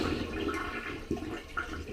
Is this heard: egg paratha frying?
no